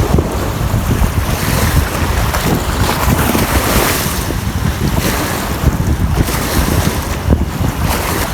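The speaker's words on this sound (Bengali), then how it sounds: "এই দেখেন ঢেউ" Wind-driven river waves slap and churn close by, with strong gusts buffeting the microphone in a steady, loud roar throughout, no voices present.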